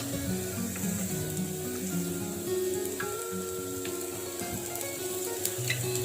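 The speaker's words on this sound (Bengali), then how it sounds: "এখন আমি দিয়ে দিব কাঁচামরিচ" Chopped green chillies and cubed onions sizzle and fry in hot oil for a peanut mash, a steady close crackle with occasional stirring and no talk.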